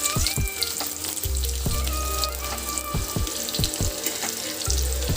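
Chopped onions sizzle loudly in hot oil in a wok, a steady frying hiss broken by a few low knocks and thumps from the pan.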